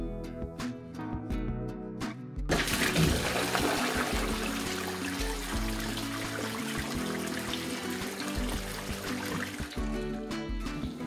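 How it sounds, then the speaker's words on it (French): A rimless wall-hung toilet on a freestanding frame is flushed, with a sharp release followed by a loud, steady rush and swirl of water that continues before easing, after some faint tapping beforehand. "je remonte toutes les plaques et on tire la chasse"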